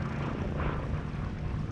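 Yellow-nosed Vought Corsair navy fighter taxiing at the Sywell airshow, its piston engine giving a loud, steady, rough roar that fills the short stretch without pause.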